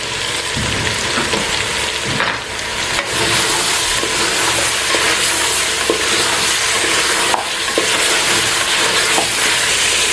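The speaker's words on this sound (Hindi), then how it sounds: "इसको मज़ीद हम 1-2 मिनट के लिए भूनेंगे" Karahi gosht masala with medium tomatoes stir-fries in a karahi, a loud, continuous close sizzle with repeated scraping stirs and clinks over about ten seconds, with no speech.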